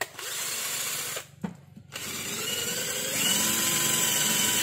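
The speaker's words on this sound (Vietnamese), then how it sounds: "mình khoan cho quý vị xem nè" A cheap cordless drill bores into a wooden board on a workbench, giving a steady close whirring drone that stops briefly, then resumes and runs on at a slightly higher, louder pitch.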